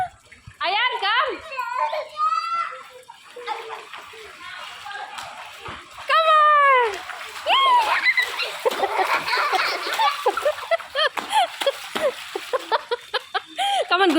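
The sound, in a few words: child splashing in rain water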